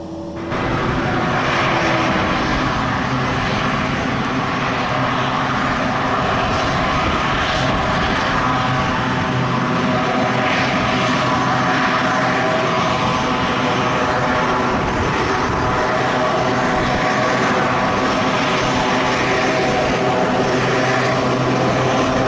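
A Mitsubishi aircraft engine in flight gives a loud, steady droning roar that holds without a break from start to finish, with no voices over it.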